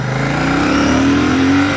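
Royal Enfield Shotgun 650 motorcycle engine accelerating, a loud, close twin-cylinder drone rising steadily in pitch over a couple of seconds.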